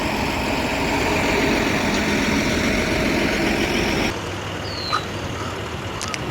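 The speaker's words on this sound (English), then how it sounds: "My engine is running good again." An old jet ski engine idles steadily with a continuous loud drone, then the sound shifts to a quieter, more distant running tone with a few faint clicks.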